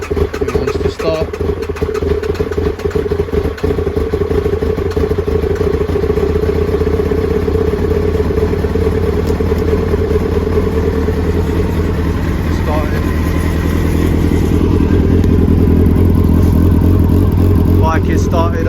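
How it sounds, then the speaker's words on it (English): A Kawasaki Ninja ZX9R motorcycle engine, restored, fires up and settles into a steady, loud idle with a deep rumbling throb and mechanical clatter, running continuously throughout. "Bike is started, alhamdulillah."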